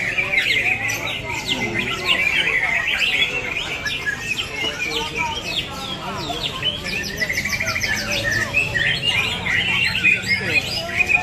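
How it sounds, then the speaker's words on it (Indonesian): Many oriental magpie-robins chirp and trill at once in a busy, loud chorus at a songbird contest in Banda Aceh, with squawks mixed in and faint crowd murmur underneath. "Nampak kayak tinggal di hutan nih suara burungnya."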